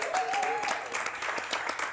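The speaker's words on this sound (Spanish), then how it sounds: "Le aplaudimos, muchas gracias por la visita, le aplaudimos." Studio audience applauding on an Argentine evening television talk show, a steady dense wash of clapping for about two seconds, fairly loud, with a faint voice or tone briefly audible early on.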